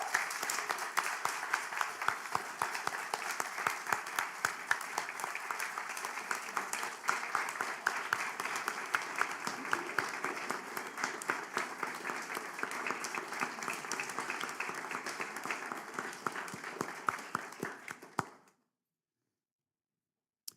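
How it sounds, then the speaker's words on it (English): Audience applause for teachers and Ed Specialists of the Year at a public school board budget hearing, steady dense clapping from a crowd lasting about eighteen seconds before cutting off abruptly. "Let's give them another round of applause"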